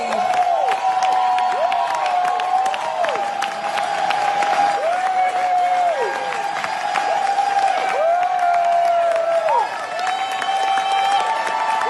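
A crowd cheers and applauds at a red carpet event, sustained and fairly loud, with a high tonal whistle or squeal sweeping repeatedly over the noise.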